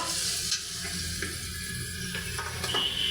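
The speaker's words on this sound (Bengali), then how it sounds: "আর এখন এগুলো ভেজে নেবো" Blended spice paste for a rohu fish head and taro lentil dish frying in a pan, a steady close sizzle with faint stirring scrapes throughout, no talking.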